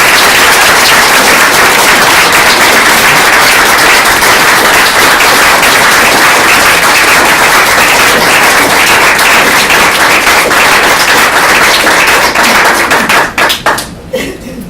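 A crowd applauds steadily and loudly at a campaign endorsement event for an Illinois lieutenant governor candidate, with dense sustained clapping that fades out near the end.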